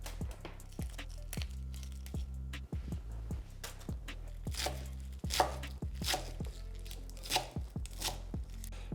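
Knife chopping green kale leaves with the woody stalk removed, a steady run of sharp taps on a cutting board with short pauses, close and clear with no talk.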